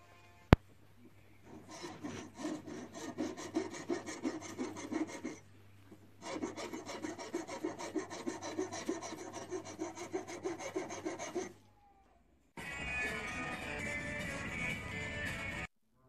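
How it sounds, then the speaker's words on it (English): Round file rasping against reclaimed wood in a workshop, steady back-and-forth strokes in two long bursts with a short pause, then a brief gap and a denser, brighter stretch of filing, close and fairly loud with no talk. "Just going to take a file to them, a round file, so that it fits in."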